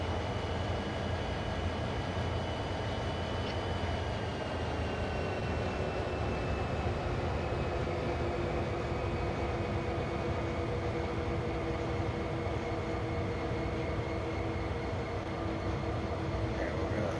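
A freight locomotive hauling oil tankers runs in the Train Sim World 5 game, producing a steady low engine drone and constant rolling rail noise at an even level throughout, with no talk.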